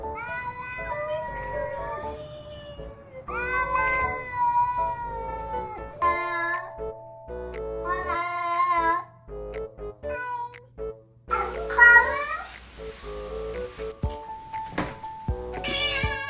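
A cat meows and yowls repeatedly up close in long, drawn-out, speech-like calls of varying pitch, with short pauses and a few louder strained cries.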